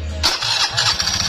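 A motorcycle engine fires up after a short whir from the starter, then settles into an uneven, knocking idle with a rough, close, fairly loud rhythmic putter, no talking.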